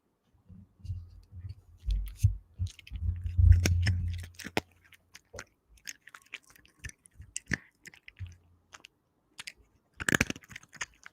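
Crunchy pet treats being chewed at close range. Crisp crunches and clicks come in uneven bursts with quiet gaps, and a louder stretch of chewing comes early on.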